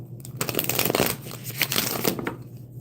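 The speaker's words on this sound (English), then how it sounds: "Let me shuffle this better." Tarot cards shuffled by hand during a reading, a steady papery riffling and rustling that runs continuously for a few seconds at close range, with no speech over it.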